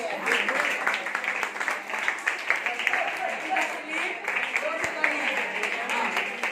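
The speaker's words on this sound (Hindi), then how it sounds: "कबीरदास के लिए जोर से तालियां।" Students in a classroom give loud applause for the Kabirdas quiz team, a dense, continuous patter of many hands clapping throughout with a few voices audible underneath.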